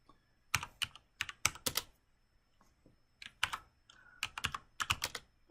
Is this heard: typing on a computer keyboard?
yes